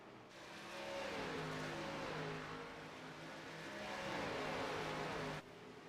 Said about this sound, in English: They're trying to go 3 wide here as they go around the lap car of Doug Sigmund.